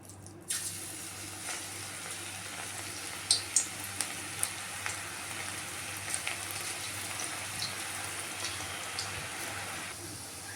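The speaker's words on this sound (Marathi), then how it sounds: "भजी सोडून घेऊया।" Onion bhaji fritters dropped into hot oil in a home kitchen, a steady close sizzle and bubbling that starts abruptly and continues evenly, dotted with small pops and crackles, no one talking.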